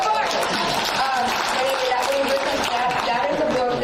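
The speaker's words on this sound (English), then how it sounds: "give her a round of applause" A Kansas City business convention crowd applauds a woman on stage, a steady wash of clapping heard with voices and some cheering mixed in.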